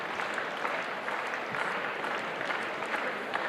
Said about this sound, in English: encouragement from the crowd for that